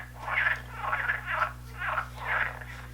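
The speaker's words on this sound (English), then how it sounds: "Here's what a frog sounds like." A frog calls in a series of five rapid croaking bursts, evenly spaced and close, each a raspy pulsed trill over a faint steady hum.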